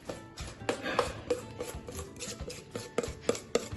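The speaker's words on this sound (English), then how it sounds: "mix it up real well." Sourdough starter being stirred and mixed in a container at home, giving a run of scraping, knocking clicks and soft wet rubbing against the container walls, close and fairly quiet, with no talking.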